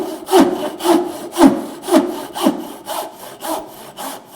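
A frame saw cuts a wooden tenon in a close, loud rhythm of about eight even rasping strokes, each a swelling push-pull rasp, with no talk.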